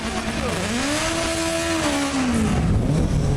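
A turbocharged race car engine revs close by, its pitch sweeping up, holding, then falling away over a few seconds, loud under excited talk from onlookers.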